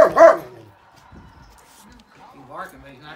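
A dog gives a couple of loud, close, happy barks in quick succession, followed by quieter whimpering sounds and a few softer yips.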